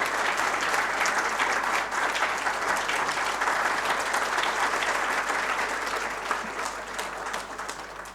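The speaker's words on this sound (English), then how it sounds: "May we have a round of applause for the dignitaries," Sustained audience applause for the dignitaries at a book launch in Delhi, a dense roar of many hands clapping that holds steady for several seconds, then fades slightly toward the end, with no talking.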